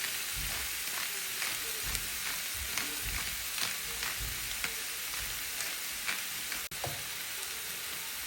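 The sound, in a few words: stirring cabbage, ground beef and tomato sauce in pot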